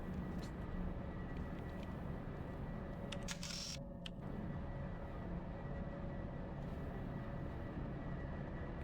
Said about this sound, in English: I'm hearing a jet engine or something layered on top of the truck sound